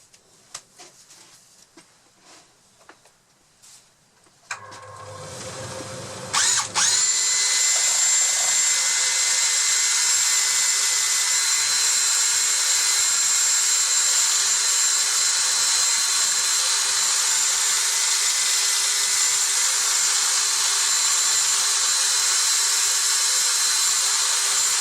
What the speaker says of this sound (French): c'est un bois qui est relativement dur, hein, donc il y a encore du ponçage, donc je vous en fais un peu